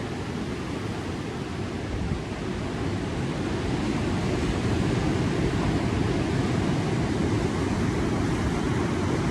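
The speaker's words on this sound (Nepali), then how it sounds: "पुरा छाल हान्दैछ पानीले।" Ocean waves crash continuously on a busy beach, making a loud, constant roar of surf with a windy rush over it and no voices.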